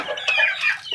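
Pet chickens cluck close by in a short burst of several quick, throaty calls, fairly loud and alone with no voices.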